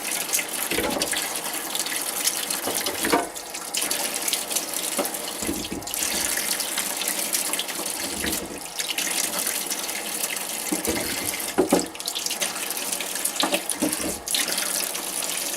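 Well water runs steadily from a tap into a sink, a continuous hissing splash with a few brief clinks and handling sounds, no talking.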